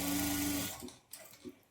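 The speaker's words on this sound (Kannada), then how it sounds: "ಈಕ್ವಲ್ ಆಗಿ ಇಟ್ಕೊಂಡು ನೀವಿಲ್ಲಿ ಸ್ಟಿಚ್ ಮಾಡ್ಕೊಳ್ಬೇಕು." Sewing machine stitching a lined blouse, a close steady whirring run for roughly half the clip that stops, leaving a couple of soft handling knocks and faint clicks.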